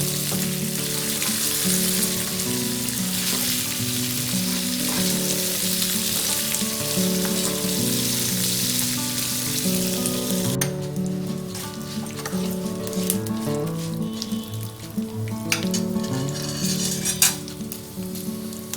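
Lentils, green chillies, dried red chillies, tamarind and curry leaves sizzle in hot oil as a tempering for a cucumber chutney, a steady, dense crackling fry that runs throughout and grows a little quieter and less hissy midway.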